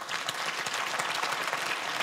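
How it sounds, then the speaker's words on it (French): An audience at a talk on responsible entrepreneurship and the B Corp movement applauds, a dense, even clatter of many hands sustained throughout without voices. "je pense que vous pouvez l'applaudir par rapport à ça"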